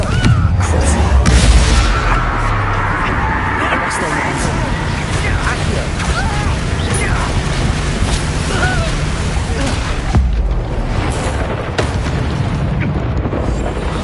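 A Confringo blasting spell goes off in Hogwarts Legacy, with a heavy booming blast at the start that rolls into a sustained roar of combat noise. A voice calls out over the din.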